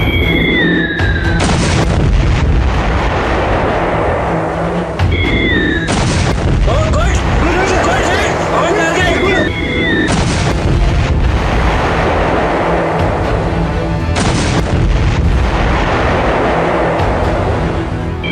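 Indian Army artillery shelling Pakistani positions at the LoC: heavy, loud booms rumble almost continuously, with rough wind buffeting the microphone throughout.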